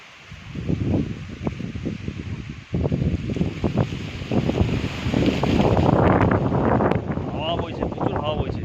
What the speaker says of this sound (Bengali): হাওয়া বইছে, প্রচুর হাওয়া বইছে।